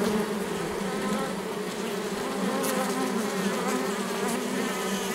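A steady, dense buzzing of many honeybees inside a top-bar beehive at close range, a continuous hum with no pauses and no voices.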